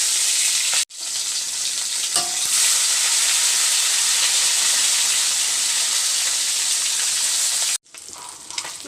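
Fish fries in hot oil in a home kitchen: a loud, continuous sizzle and hiss runs throughout, broken by two brief silent cuts.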